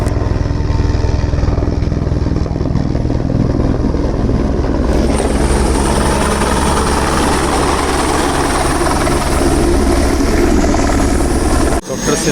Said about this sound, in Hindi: आवाज़ आ रही है हेलीकॉप्टर की